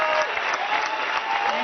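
A crowd gives a speaker a standing ovation at an Apple music event at Yerba Buena Gardens in San Francisco, a dense, loud wash of applause, with a voice speaking over it.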